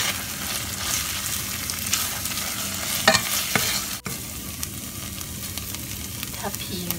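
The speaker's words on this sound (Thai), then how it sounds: "ก็เอาแกงลงไปผัด กลิ่นหอมหอมเลิศมาก ก็ผัดให้หอมเลยค่ะ" Thai curry paste stir-fried in a pan, with a steady close sizzle and frequent clattering scrapes of a spatula, one sharp knock partway through, faint voice briefly in the background.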